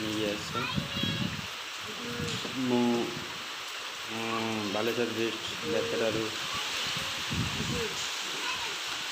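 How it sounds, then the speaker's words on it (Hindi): Heavy rain and wind during Cyclone Yaas in Balasore district, Odisha, a steady hiss of downpour and gusts running beneath someone talking throughout. "देखु वर्षा और पवनर बेग बढ़ी चली"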